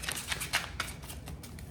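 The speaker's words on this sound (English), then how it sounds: "I'm just shuffling the cards from the pile before" A deck of cards is shuffled at close range, a quick run of crisp riffling flutters and soft snaps that is steady and fairly quiet, with no voice over it.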